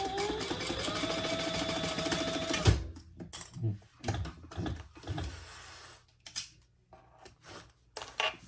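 Domestic sewing machine stitching up the side seam of a small tulip-shaped fabric pouch, a steady whirring run for under three seconds that cuts off into quiet handling clicks and rustles.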